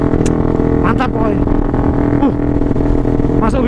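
A two-stroke Suzuki Satria motorcycle with a 240cc twin-cylinder engine revs loudly and continuously up close, its pitch rising and falling through gear changes, with a voice speaking over it.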